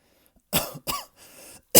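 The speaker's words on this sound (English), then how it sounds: "I coughed." A person coughs in three harsh, separate bursts after waking with a gasp, close and fairly loud, with short pauses between and a final cough starting at the end.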